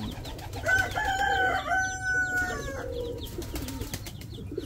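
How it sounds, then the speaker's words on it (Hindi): A chick cheeps in a poultry setup, with thin high chirps repeating close by for a few seconds over a steady low background rumble, and other fowl calling faintly around it. "अच्छा, ये एक चूजा जो है"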